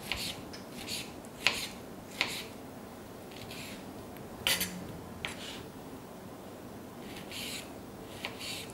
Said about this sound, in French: je vais les couper en petits cubes